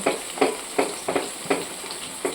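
Salted fish fries in a pan in a home kitchen, with short sizzling spurts that burst out about every third of a second in a loose rhythm, close and fairly loud, with no voices.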